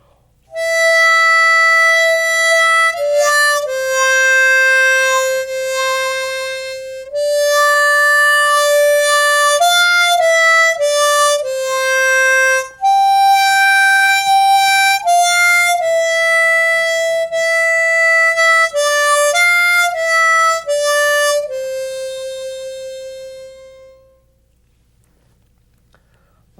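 Harmonica playing a slow melodic tune, sustained clean reed tones stepping between notes with short breaks for breath, close and clear, ending with a long held note that fades out.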